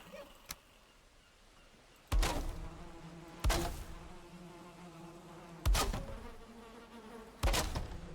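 Bees buzz from a beehive in the video game Valheim as a steady drone, broken by four loud, sharp thuds from building pieces being placed.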